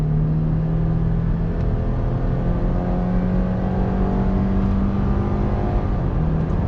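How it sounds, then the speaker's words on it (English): 2020 Subaru Impreza Limited accelerates under throttle, its continuous engine drone and road noise heard from inside, with the pitch climbing, dropping back and climbing again like stepped shifts. "let's go ahead and see the acceleration of the Impreza on"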